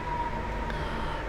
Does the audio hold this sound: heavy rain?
no